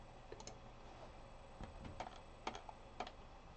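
Typing on a computer keyboard while entering a measurement, a few soft, distinct key taps in a short irregular burst, close and quiet with no speech.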